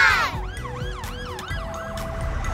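A wailing ambulance siren from a children's cartoon sweeps up and down in steady, rising and falling cycles, loud and clear over a faint background hum, with no talking.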